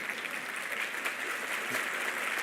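Congregation applauding during a church sermon, a steady wash of clapping sustained at even loudness for the whole stretch, no voice over it.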